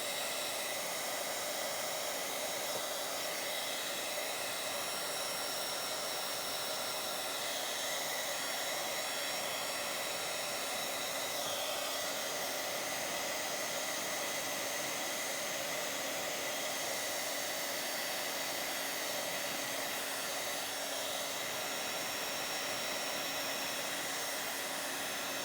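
A heat embossing tool blows hot air over a signature on a gothic-style journal page, a steady, loud, unbroken whooshing hiss that runs alone the whole time.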